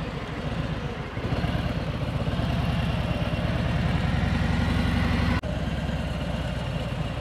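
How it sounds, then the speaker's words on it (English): A motorcycle engine idling with the clutch open and no throttle while the bike is swayed around a parking lot, a loud, steady low rumbling putter heard close, with a brief dropout near the end. "Just ride around the parking lot at idle speed and swing and sway the bike"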